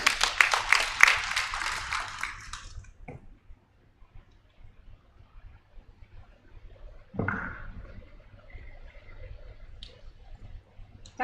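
A conference audience gives a speaker a short burst of applause, dense clapping for about three seconds that fades out. Scattered clicks and small handling noises follow in a quiet room.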